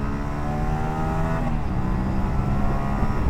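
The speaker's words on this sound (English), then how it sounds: "The induction noise here sounds pretty good too." Induction noise from a 2025 Aprilia RS 457 parallel-twin motorcycle engine while riding, a steady, close, continuous droning hum with faint pitch shifts throughout and no talking.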